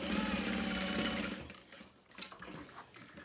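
A sewing machine stitches a 3/8 inch seam along the bottom of a make-up bag, a fast steady whirr for about a second and a half before it stops, followed by quieter handling of the fabric.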